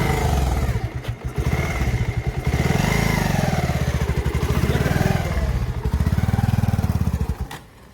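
A motorcycle engine runs close and loud while someone learns to ride, its throbbing idle rising and falling through several revs before cutting out abruptly at the end.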